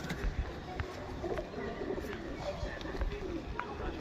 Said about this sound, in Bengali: একটা সবুজ পেয়ার, পেয়ার পায়রা, এটা মেল এটা ফিমেল